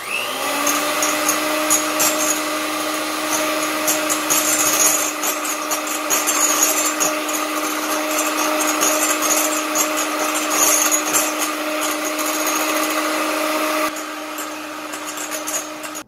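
An electric mixer whips egg whites with sugar for a bûche de Noël, giving a steady, loud motor whine that runs unbroken and dips slightly just before the end, with no talking.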